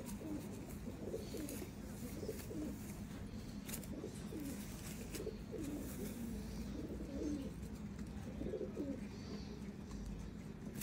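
Pigeons in a loft give soft, repeated rolling coos, a steady murmur of calls over a low background hum, fairly faint and close with no speech.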